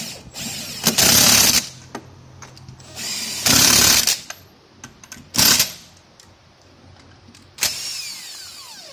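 Impact wrench tightening spare-tire mount bolts on a 2025 Ford Bronco, firing in four separate bursts of loud, close hammering, the first two longer and the last two shorter, with quiet gaps in between.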